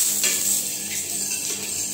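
Oil heating on a tawa for besan sabji, a steady close sizzle and hiss with faint stirring or utensil clinks throughout, no talking.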